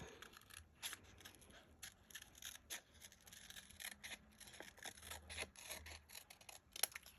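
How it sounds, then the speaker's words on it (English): Scissors snip through paper and craft ephemera with dry, crisp cuts and rustling at a close distance, in short irregular bursts that come quietly, with no talking. "So what I'm going to do is I am going to cut that out."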